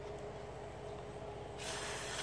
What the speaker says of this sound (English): Now what I do with these is I spray down in it